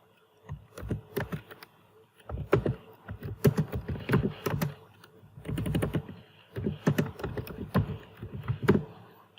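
Fast keyboard typing on a computer while writing in Microsoft Word, coming in several bursts of dense clicking separated by short pauses, close and fairly loud with no talking.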